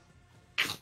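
A single short, sharp sneeze bursts out near the end after a quiet moment.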